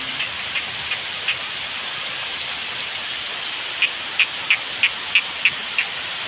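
Heavy, wind-driven rain falls around a hut in the middle of rice paddies during a thunderstorm, a steady dense hiss throughout, with a run of sharp rhythmic drips or taps near the end.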